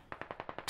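Six evenly spaced gunshots fire through a wall in the military shooter Squad, muffled and fairly faint, in a quick steady rhythm.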